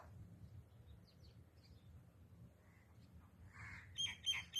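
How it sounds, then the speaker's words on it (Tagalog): A few faint caws from crows in the distance by the sea, sparse calls near the end over a low rumbling background. "Daming uwak."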